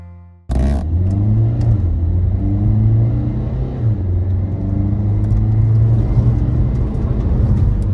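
A Renault Kadjar dCi 110 hp with EDC dual-clutch automatic gearbox accelerating: a steady, close engine drone rising in pitch, with a smooth shift partway through and continuous road rumble, no talk.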